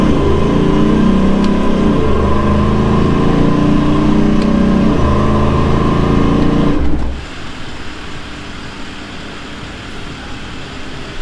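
Toyota Land Cruiser 79 Series with an eight-speed automatic, its engine droning loudly under load and close by, then dropping abruptly to a quieter idle-like hum.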